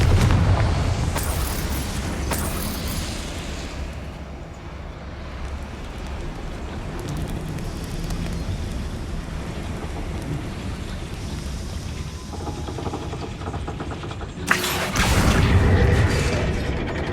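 A Confringo fire spell explosion in the video game Hogwarts Legacy, loud booming blasts at the start and again near the end over a continuous roaring, rain-like rumble.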